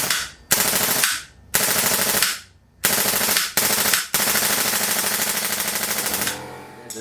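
Airsoft AEG converted to a Daytona gas gun firing full auto outdoors on a field, several loud, rapid bursts of sharp, fast-cycling shots with short gaps between them, then one longer sustained burst, close up.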